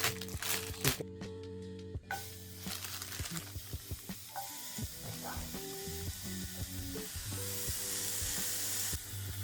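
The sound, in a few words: burger patties sizzling while frying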